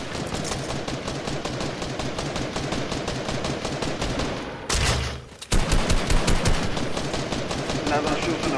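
Rapid gunfire rattles through a Fortnite match, dense repeated shots in quick bursts, briefly broken by a heavy blast before the shooting resumes, with players talking underneath.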